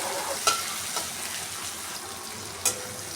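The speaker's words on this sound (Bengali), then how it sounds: "পেঁয়াজটাকে দিয়েও আমি একটু ভালো করে ভেজে নেব" Two medium chopped onions frying in a pan, giving a soft, steady sizzle with a couple of sharp stirring clicks, heard near and fairly quiet with no voices.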